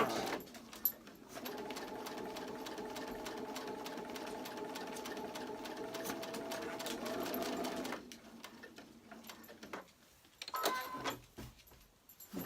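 A sewing machine runs a plain straight stitch along the edge of an appliqué piece, humming steadily for several seconds, then slowing to a few single stitches and quiet handling noises.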